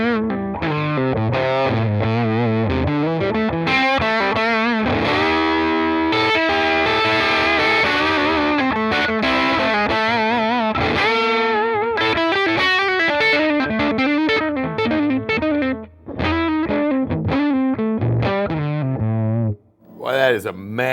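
Distorted electric guitar through a Goodsell Dominatrix amp, with the tone control swept gradually while chords and riffs ring out loudly and continuously, with short dips in level.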